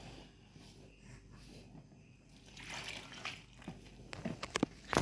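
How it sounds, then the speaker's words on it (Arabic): Water trickles and splashes into a bowl of flour and salt while dough is being made, soft at first and then louder with sloshing and brief clinks near the end. "ودلوقتي هتحط الميه."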